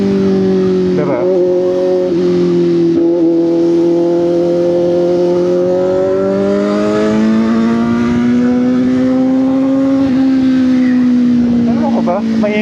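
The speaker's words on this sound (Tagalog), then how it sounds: "Maingay pa yung motor ko or something?" A motorcycle engine drones steadily up close, its pitch rising and falling as it revs, with a loud continuous tone throughout.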